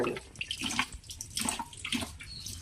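Running water splashes steadily as raw chicken is washed for mandi in a home kitchen, with the sound continuous and close and no one talking.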